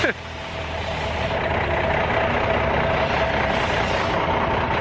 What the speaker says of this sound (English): Oh great, a truck's coming through now. It's all loud.